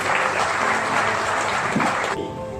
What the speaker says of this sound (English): Please welcome both gentlemen with a round of applause.